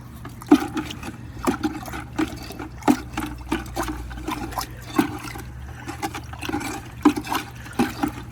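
Liquid vegetable tanning solution mixed with charcoal sloshes in a bin as it is stirred, a string of rhythmic splashes and swishes roughly once per second, close and fairly quiet, with no voices.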